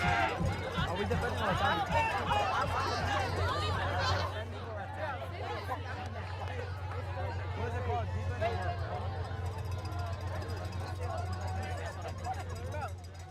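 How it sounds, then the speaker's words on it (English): The home crowd of John F Kennedy fans at a PSAL 4A high school football game against DeWitt Clinton keeps up a steady roar of chanting and babble, with an announcer talking over it. "As you hear the Kennedy crowd chant for their defense."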